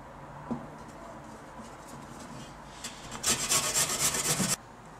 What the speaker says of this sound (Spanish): Yo lo que voy a hacer es rallar la zanahoria y también el calabacín